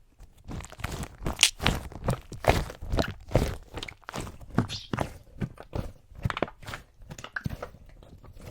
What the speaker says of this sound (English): Giant blubbery cheese squishy.